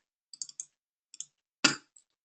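Sharp computer mouse clicks in a quiet room, a quick cluster of small clicks followed by a louder, fuller click near the end, close and isolated.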